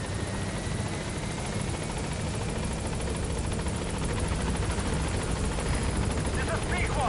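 Helicopter B-Quad from Metal Gear Solid V arrives at the landing zone, its steady rotor roar and chopping filling the scene loudly and continuously, with a voice speaking over it.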